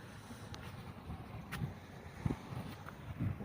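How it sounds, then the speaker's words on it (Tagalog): Steady outdoor wind at a stockpile site rumbles against the microphone, with low buffeting gusts and a few brief louder bursts. "Ito, mahangin na."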